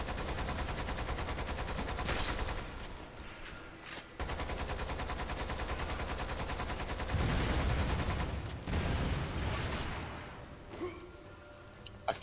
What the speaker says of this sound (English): By the way, this rocket launcher is infinite.